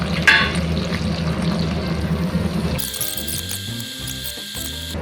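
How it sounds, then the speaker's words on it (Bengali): Sliced onions and dried chillies stir-frying in a pan, a steady loud sizzle close by, then the sound shifts to an uneven hiss broken by scraping and stirring knocks. "এইগুলো দিয়ে একটু ভালো করে নেড়ে চেড়ে ভেজে নেব।"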